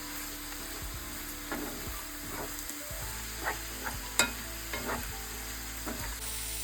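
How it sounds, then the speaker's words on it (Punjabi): Chopped onions roast in a pan for paneer butter masala, stirred until brown: a steady low sizzle runs throughout, broken by scattered scraping strokes of the spoon, one sharper clack near the middle, with no voices. "ਹੁਣ ਆਪਾਂ ਇਹਨੂੰ ਭੁੰਨਦੇ ਹਾਂ ਚੰਗੇ ਤਰੀਕੇ ਜਦ ਤੱਕ ਇਹ ਬਰਾਊਨ ਨਹੀਂ ਹੋ ਜਾਂਦੇ"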